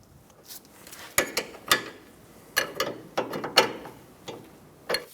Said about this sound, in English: We're going to use a 22mm wrench to snug down the jam nut.